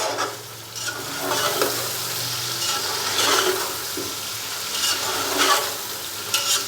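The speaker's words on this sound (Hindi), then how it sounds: "और चिकन को हम घी के अंदर तकरीबन 5 से 7 मिनट अच्छे से फ्राई कर लेंगे या कि अच्छे से भून लेंगे।" Chicken frying in ghee while being stirred, a loud, steady sizzle with recurring scraping swells from the stirring and nobody speaking.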